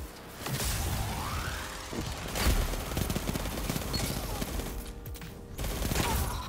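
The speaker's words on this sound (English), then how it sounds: "we're just tearing these guys apart with this SMG right now." A video game SMG fires rapid bursts in close combat, with dense crackling gunfire filling most of the stretch and a few whooshing effects between the volleys.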